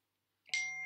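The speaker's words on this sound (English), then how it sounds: "my messages are coming through on my phone and my laptop" Message notification tones ring out from a phone and a laptop: a soft electronic chime rises, then a sharper, brighter ding lands right at the end, close and clear in an otherwise silent room.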